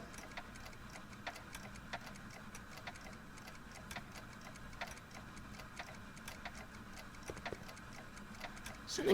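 A clock ticks steadily at moderate volume inside the Back to the Future video game, with regular sharp ticks over a constant background hum.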